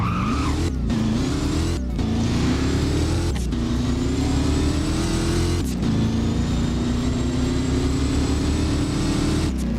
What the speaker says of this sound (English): the 2013 Ford Mustang Shelby GT500. So let me go ahead and start this one up for you guys so you guys can hear how it sounds.